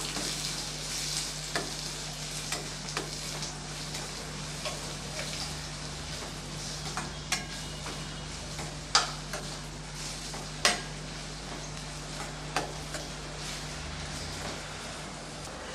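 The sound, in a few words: onions sautéing in a pan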